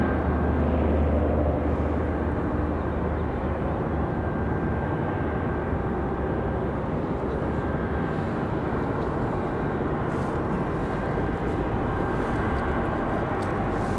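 American Airlines Airbus A320-200 jet departing an airport for Charlotte, a constant broadband engine roar holding steady and loud throughout with a faint high whine.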